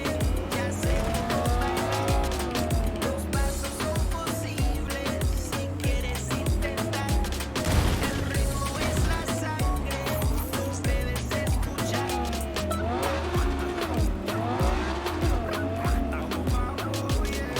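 Car driving in Cyberpunk 2077, engine roaring loudly and continuously with repeated tire squeals and skids as it corners, heard over a steady music-like backing throughout.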